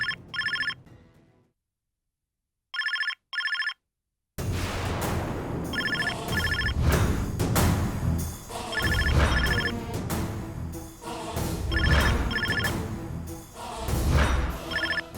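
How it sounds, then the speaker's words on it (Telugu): A landline telephone rings in a television drama scene, sounding in short repeated bursts with gaps, first fairly alone and then continuing over a louder, busy background of music and noise. "ఒకవేళ ఆ రాస్కెల్ ల్యాండ్లైన్కి ఫోన్ చేశాడేమో. త్వరగా లిఫ్ట్ చేయి"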